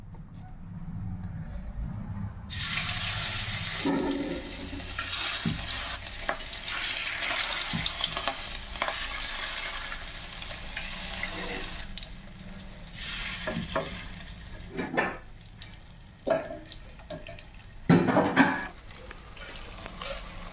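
Marinated fish pieces drop into well-heated oil, starting a strong sustained sizzle after a quiet opening, with bursts of spattering and pan knocks toward the end; no talking.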